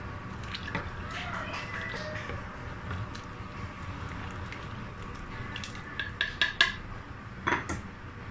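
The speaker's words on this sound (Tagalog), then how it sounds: "Haluin ko lang po siya para hindi dumikit yung ilalim habang hindi pa nakulo." A spoon clinks and scrapes against a metal pot as Chinese soup with pork is stirred, with soft liquid sloshing and a cluster of sharper metallic taps near the end, close and fairly quiet.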